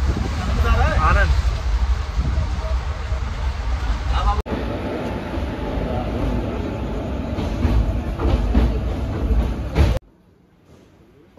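A train pulls into Kathgodam railway station in the early morning: a continuous loud rumble and rail clatter with voices mixed in, cutting off abruptly into near silence at the end.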